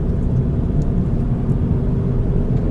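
A Chevrolet Aveo with a manual gearbox pulls hard uphill to overtake, its engine a steady close-up low rumble with road noise throughout and no talking.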